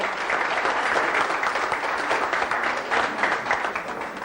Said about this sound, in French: Voilà, on peut l'applaudir très fort.